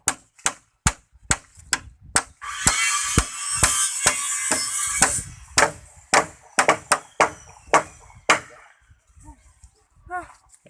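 Sharp, evenly spaced hammer blows driving nails into eucalyptus wood for a cattle pen, loud and close, with a burst of noisy clatter partway through and talk underneath.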